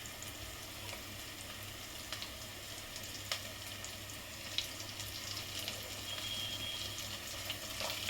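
Chopped onion and potato fry in hot oil in a pan, making a steady, close crackling sizzle that runs throughout with scattered small pops and no voices.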